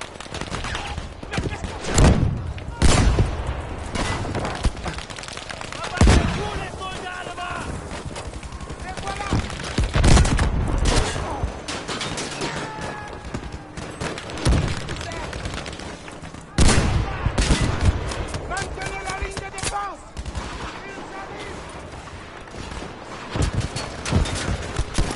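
Gunfire from the video game Battlefield V, with sharp shots and bursts scattered through the scene amid a dense battle mix, loud and close, while people talk over the action.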